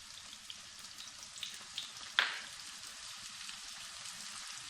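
Garlic eggplant frying in a pan with a spoonful of tadka added, a quiet steady sizzle with a few soft pops and one sharper crackle midway.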